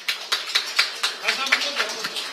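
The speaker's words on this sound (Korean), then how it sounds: "큰 박수 부탁드립니다." Applause at an indoor Korean political party pledge ceremony for fair primary elections: a small group claps in an uneven, steady patter of roughly ten sharp claps over a couple of seconds, moderately near.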